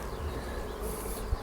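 Hybrid, mixed-breed honey bees swarm around their hive in a dense, steady buzzing drone that fills the whole moment.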